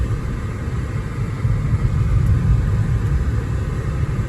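A 2009 Mercedes-Benz E350 4Matic with 128,000 miles cruises smoothly around a block, its engine and road rumble a steady low drone from inside the cabin, swelling slightly partway through.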